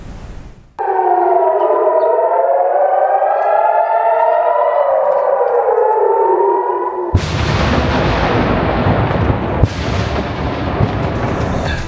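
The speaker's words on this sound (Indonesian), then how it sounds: "Hampir setiap 10 menit sekali sirine berbunyi, pertanda mereka harus segera berlari ke tempat perlindungan." Civil defense air raid siren in Kiryat Shmona, northern Israel, wailing loud and rising and falling for several seconds, then giving way to a dense, roaring rumble with sharp blasts.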